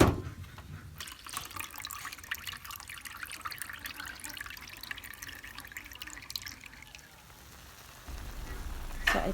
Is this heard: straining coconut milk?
yes